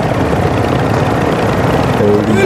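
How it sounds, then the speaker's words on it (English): Helicopter rotor and engine drone in the video game Warzone, a steady loud low thrum filling the whole clip behind game noise. "Helicopter!"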